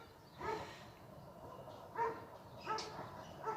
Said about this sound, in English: Just like the dog's barking now.